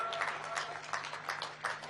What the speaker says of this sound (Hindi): आप दोनों हाथ उठा के ताली बजा के स्वागत करेंगे माननीय गृह मंत्री जी का।